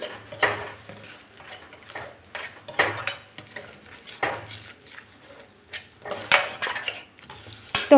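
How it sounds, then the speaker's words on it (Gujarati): A spoon stirs chilli and salt into an okra gravy in a pan, giving repeated scraping strokes and clinks against the metal, with faint simmering underneath and no talking. "બધી વસ્તુને આપણે એકદમ સરસ રીતે હલાવી અને મિક્સ કરી લેવાનું છે"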